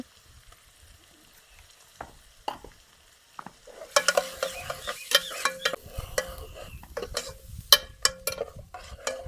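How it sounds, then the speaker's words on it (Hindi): Red chili powder, turmeric and salt fry in a kadai, sizzling quietly before a spoon starts stirring and scraping in a busy rhythm of sharp metallic clicks over steady frying. "मसाले को अच्छे तरीके फ्राई करने के बाद"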